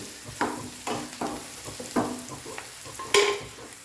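Coriander powder frying over a high flame for a prawn curry makes a close, dry sizzle. A spatula strikes and scrapes the pan in a rough rhythm, roughly every half second, with one louder clatter near the end.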